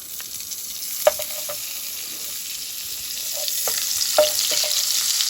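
Butter sizzles steadily in a hot pan for dhaba-style paneer, a close hiss that swells slightly toward the end, with a few sharp utensil clicks and taps scattered through, no voices.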